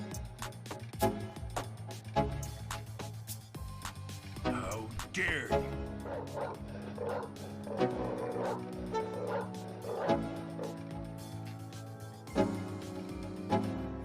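Two dogs bark and yip repeatedly at a boy, sharp mid-distance barks and whimpers scattered through the clip over a steady hum and background music.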